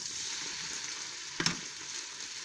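Lemons, spring onions and garlic cooking in olive oil and a little vinegar in a pan, giving a steady mid-level sizzle with one brief louder burst of hissing as more goes in, no voices.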